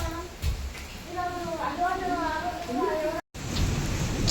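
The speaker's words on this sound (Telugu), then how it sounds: "కరెంట్ పోయింది చూస్తూ ఉన్నాడు వర్షం పడుతుంది కదా" Steady rain from a windy storm hisses in the background while a voice talks over it.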